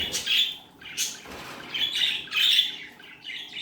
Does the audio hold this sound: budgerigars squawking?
yes